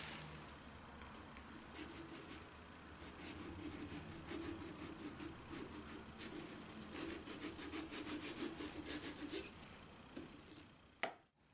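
A spoon scrapes out the inside of a pumpkin, producing quiet, close, repeated rasping strokes in an uneven rhythm, ending with a sharper knock.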